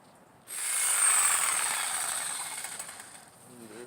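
A jigsaw cuts through taped plywood, starting abruptly with a loud, buzzing rasp that holds steady, then fades slightly near the end.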